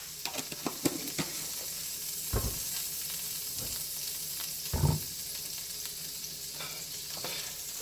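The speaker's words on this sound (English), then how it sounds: "And let's get back to sauteing these vegetables." Vegetables sizzle steadily in hot coconut oil in a pan for rasta pasta, a constant frying hiss with occasional stirring clunks and scrapes.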